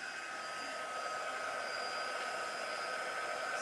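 A heat gun blows hot air over the back of a modeling paste craft project, a steady, loud, even whoosh of air that holds unbroken for the whole stretch with no talk over it.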